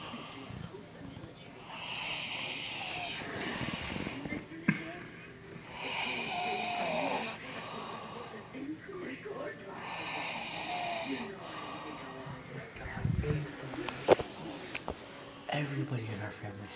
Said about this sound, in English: Everybody in our family snores.